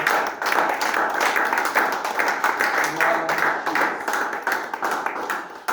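A church congregation claps and applauds loudly during a service, with dense, rapid hand claps and voices mixed in, sustained for several seconds.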